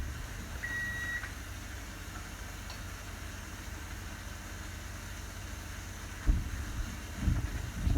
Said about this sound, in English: There's the timer.